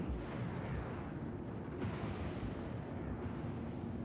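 Ship cannons on a Drake Cutter in the Star Citizen video game fire in rapid heavy bursts, a dense run of booming shots that nearly overlap, loud and close with no talk.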